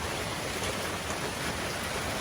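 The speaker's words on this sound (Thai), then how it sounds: "วันนี้ก็ มากับสายฝนนะคะ" Steady rain falls at a temple grounds in Surin, Thailand, a dense, even hiss of drops with no breaks and no voices.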